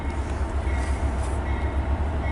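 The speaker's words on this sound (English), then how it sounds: "Here comes. Slow train." A slow CN freight train rolls past a signal in Port Huron, giving a steady, loud low rumble of wagons that holds constant without a horn.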